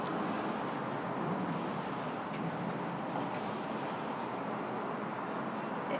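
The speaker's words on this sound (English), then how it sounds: "Just pretend there's no traffic." Steady road traffic in Las Vegas, a continuous broadband wash of passing cars, buses and trucks heard from a distance, with a faint high whine coming and going above it and no voices.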